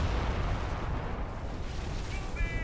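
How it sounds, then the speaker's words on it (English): A mortar is struck directly by incoming fire in the World War II strategy game Company of Heroes, a sustained dense rumble of artillery and explosion noise with a faint whistling tone late on, amid continuous battle din. "Mortar takes a hit, direct hit in the mortar itself."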